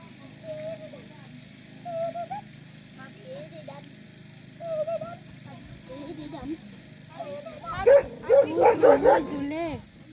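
Dogs give short excited yips and barks, ending in a rapid burst of several close barks, while a person talks to them between the calls.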